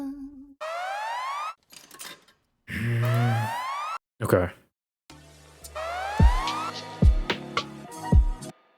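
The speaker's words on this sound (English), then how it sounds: "So I have an idea with this siren." A siren sample with rising, repeating sweeps is chopped into short bursts, then layered over punchy drum hits in a beat arrangement. A voice speaks briefly at the start.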